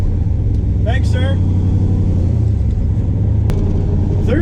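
A 1969 ZL1 Camaro runs at a stock-appearing drag race, its engine droning loud and steady as it is shifted gently into the next gear. Speech is heard over the constant rumble.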